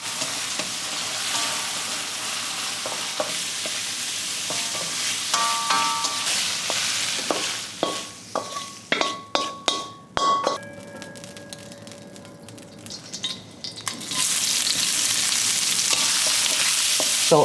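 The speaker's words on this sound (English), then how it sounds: "While frying the liver, just sprinkle some salt and pepper." Liver fries in a pan with a loud continuous sizzle, broken midway by clinks and scrapes of stirring before the sizzle swells back, with no voices.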